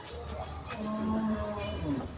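A Jersey cow gives a drawn-out low moo close by, with a second short call near the end, against a farm background.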